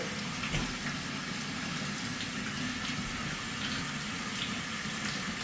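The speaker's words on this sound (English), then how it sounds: "This tap is below 9 liters per minute." A laundry sink tap runs at full flow, a steady close rush of water pouring without pause.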